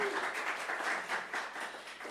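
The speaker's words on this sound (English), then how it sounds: "Can we just have a quick round of applause?" A small audience applauds at the close of an evening session on live drum looping, a steady wash of clapping that holds at an even level from start to finish.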